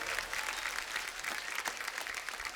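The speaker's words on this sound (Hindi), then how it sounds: "जोरदार तालियां शिल्पा शेट्टी, बादशाह और मनोज मुंतशिर के लिए।" Studio audience on a TV comedy talk show applauding to welcome celebrity guests, a dense, steady wash of many hands clapping that holds at an even level throughout, with no talk over it.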